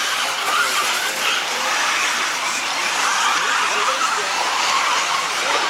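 A 1/8-scale brushless RC truggy races around a dirt track in a French championship final at Viglain, July 2021. It makes a steady, loud buzzing whine with hissing tire and track noise that runs unbroken throughout.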